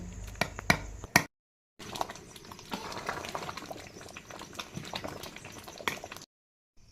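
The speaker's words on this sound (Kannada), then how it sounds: "ಇವಾಗ ಬ್ಯಾಳೆ ಒಳಗೆ ಬೆಲ್ಲ ಮಿಕ್ಸ್ ಮಾಡಿ ಸ್ವಲ್ಪ ಕುದಿಸ್ಕೊಳಕತ್ತಾರ ನೋಡ್ರಿ ಇಲ್ಲಿ" Lentils mixed with jaggery boiling in a pot on a stove, a soft irregular bubbling and popping close by, quiet and broken by a couple of brief silent gaps.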